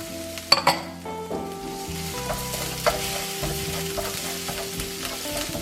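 Garlic and ginger frying in a pan for Hainanese chicken rice, with a steady close sizzle, a few metallic clinks of a utensil against the pan near the start, and stirring throughout.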